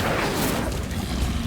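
An Incendio fire spell cast in Hogwarts Legacy, a brief loud whooshing burst of flame with a heavy, booming low rumble.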